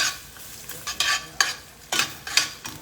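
Mushrooms cook in a pan for steak Diane, stirred with a utensil that makes about six quick, scraping strokes over a low sizzle, close and clear with no voices.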